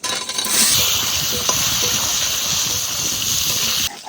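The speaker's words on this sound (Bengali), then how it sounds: "এবার আলু দিয়ে দেবো" Potatoes tipped into hot oil with cumin and bay leaf set off a loud, close, continuous sizzle with rushing hiss and faint clinks, holding steady for a few seconds before dropping away sharply at the end.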